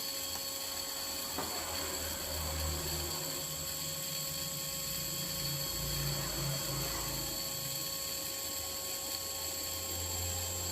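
Small MJX Bugs drone brushless motors whirring at full throttle during ESC calibration, a steady high-pitched electric whine with a low hum, close and constant throughout.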